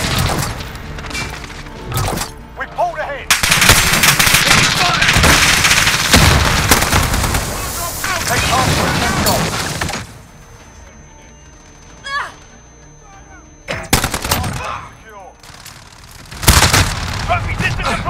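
Call of Duty Modern Warfare gunfire on the Talsik Backlot map: loud, sharp rifle bursts and booming blasts in rapid clusters, with quieter gaps and shouted voices between the volleys.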